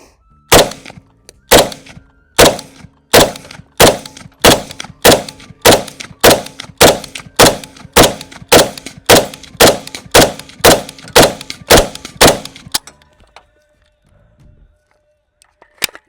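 Draco Mini pistol chambered in 7.62x39 fired at a range, about twenty loud, sharp shots in a steady rapid rhythm, close and alone, followed by a few quiet handling clicks.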